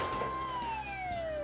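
A siren from an ambulance in Scribblenauts Unlimited plays with a single steady tone that slowly falls in pitch, loud and continuous with no talking over it.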